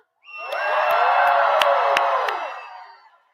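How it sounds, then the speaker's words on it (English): A large crowd cheers and whoops loudly at a campaign rally in Las Vegas. The sound swells quickly, stays high for a couple of seconds, then fades, with a few sharp claps or bangs on top. "Can we please applaud Mana?"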